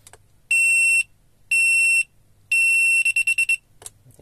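An electronic airsoft team timer gives three evenly spaced loud, piercing beeps, followed by a quick burst of shorter rapid beeps, close and clear with no talking.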